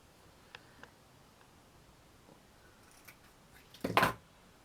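Scissors cut material for a handmade miniature garden shop: a couple of faint snips early, then one louder, closer crunching cut near the end, otherwise quiet.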